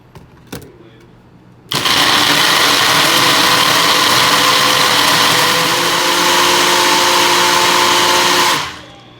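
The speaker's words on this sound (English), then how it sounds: "we're going to pop the top on and blend this up" After a brief clunk of the lid, a countertop blender starts abruptly and whirs loudly and steadily for about seven seconds while blending coconut milk into a dairy-free creamer, then cuts off, with a faint background hum before and after.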